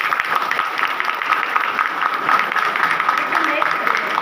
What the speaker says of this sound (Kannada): ಅದಕ್ಕೆ ನನ್ನ ದೊಡ್ಡ ಚಪ್ಪಾಳೆ